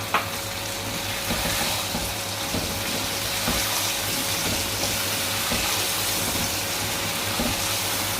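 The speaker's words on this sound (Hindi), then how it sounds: "तो अब ये अपने टमाटर ऐड कर दें।" Chopped taro root frying in a pan as tomatoes are added, giving a steady, loud sizzle with soft stirring clicks running through it and no talking.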